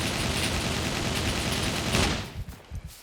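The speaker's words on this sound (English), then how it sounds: "So he first shoots at you with that machine gun, okay?" A sentry in the video game Scum fires a machine gun in a dense, loud sustained burst that stops just before the end, leaving a few scattered trailing shots.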